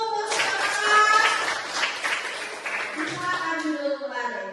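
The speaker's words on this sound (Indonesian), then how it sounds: "Iya, tepuk tanganku untuk semangat." Classroom children clapping hands together in rhythm, a lively cluster of claps mixed with young voices chanting and talking over it.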